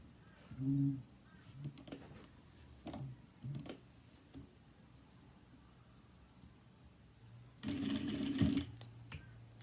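A home sewing machine stitching a 1/4 inch seam across the short end of a fabric panel for a cross-body bag, with a brief whirring burst, scattered ticks and clicks, then a longer close run of stitching.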